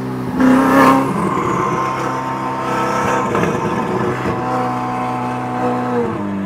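Ferrari 488 engine revs hard through an acceleration pull, loud and close at first, then holding a steady roaring drone as the car moves away, with rising and falling pitch sweeps.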